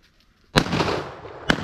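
Shotgun fired at ducks during a public land duck hunt, two sharp blasts about a second apart, the first loud and close with a lingering rumble, the second shorter.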